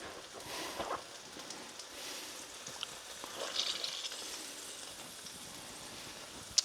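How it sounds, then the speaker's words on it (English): Squeezed aubergine frying in olive oil in a pan makes a soft, steady sizzle and crackle with scattered small pops, faint and unbroken throughout. "and then into the pan to fry."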